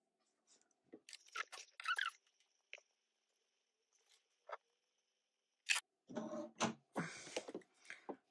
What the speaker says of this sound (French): je vais quand même cranter pour éviter les plis ici là